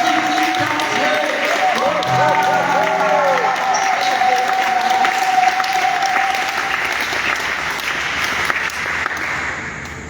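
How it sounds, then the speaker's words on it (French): A congregation at a charismatic prayer assembly applauding continuously, dense loud clapping throughout with a voice singing or calling out over it. "Acclamons le Seigneur. Acclamons notre Dieu."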